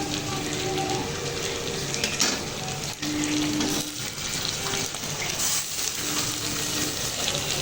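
Chopped onion, tomato and curry leaves saute in a pan for a prawn and broad bean thokku, a loud continuous close sizzle with occasional stirring scrapes and crackles throughout.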